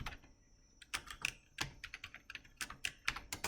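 Fingers typing a SQL command on a computer keyboard, irregular bursts of close, crisp key clicks with short pauses between words, no talking.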